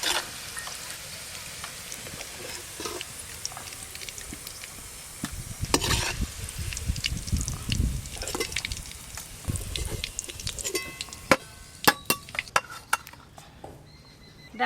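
Sliced onions fry into beresta in a kadai, a soft continuous sizzle with scraping and stirring strokes that grow busier, ending in a few sharp clinks of utensils against the pan.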